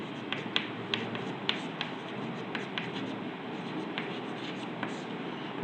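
Marker or chalk writing on a board during a Hindi statistics lesson on marginal revenue, a steady scratchy stroke texture with light taps, continuous for several seconds under a quiet room tone.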